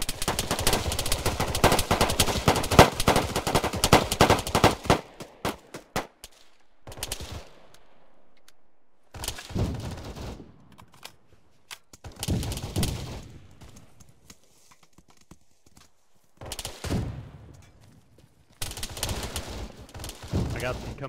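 Gunfire in the Arma 3 military video game: a dense burst of rapid automatic fire, then several separate volleys of shots separated by quiet gaps, with voices talking at times.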